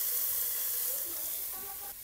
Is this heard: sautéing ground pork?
yes